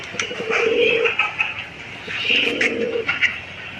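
Pigeons coo in two drawn-out, rolling bouts at close range, with small chirps and shuffling noises between calls in a farm coop housing pigeons and chickens.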